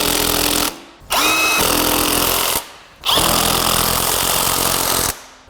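Power tool running down transmission bolts on a Honda Pilot during a transmission replacement, three loud sustained bursts with short pauses between, a faint whine audible in the second burst.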